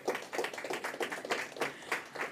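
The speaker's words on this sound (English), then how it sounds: "give them a round of applause" Audience applause for the winning team at a youth robotics camp exhibition in Anguilla, a steady patter of moderate clapping from a nearby crowd throughout.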